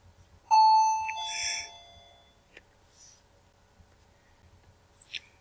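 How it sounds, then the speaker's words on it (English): A small bell rings once with a clear, sustained ding that decays over about a second and a half, followed by a few faint clicks in a quiet room. "we had a little bell ringer there"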